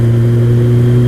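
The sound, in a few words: Kawasaki ZX-12R motorcycle revving with Akrapovic slip-on exhaust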